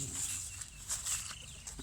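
Black chickens on a farm cluck and call in a short burst, fairly close, with a few sharp higher cries over steady low background noise.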